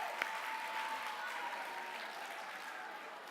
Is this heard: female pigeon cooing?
no